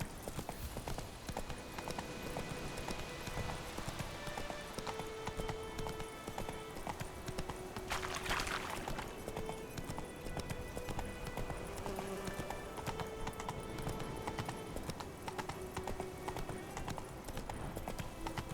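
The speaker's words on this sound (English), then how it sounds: "There's a random horse." Horse hooves clip-clop in The Witcher 3: Wild Hunt, a steady, fairly quiet rhythm of hoofbeats continuing throughout with a brief louder burst midway and little speech.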